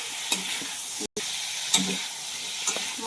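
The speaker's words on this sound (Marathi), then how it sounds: "आणि तो बटाटा पण नाही थोड्या परतू द्यायचा आता चांगलं मिक्स करून घ्यायचं" Potatoes sautéing in a pan sizzle loudly and continuously while a utensil stirs and scrapes them every second or so, with one brief dropout partway.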